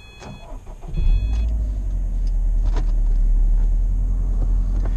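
A car engine cranks and catches after about a second, settling into a steady idle rumble, preceded by a few electronic beeps.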